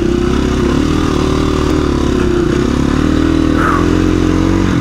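A KTM or Beta dirt bike is ridden hard up a steep double black diamond trail, its engine roaring loud and close in a steady buzzing drone with surging revs and no voices.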